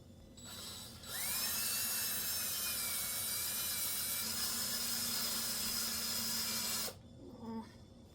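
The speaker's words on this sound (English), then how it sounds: "And here is where my drill bit got stuck." A drill bit bores into wood in a sustained grinding, rubbing whine that holds steady for several seconds, close and loud, then stops abruptly as the bit gets stuck.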